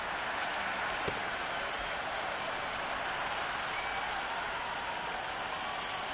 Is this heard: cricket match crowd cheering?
yes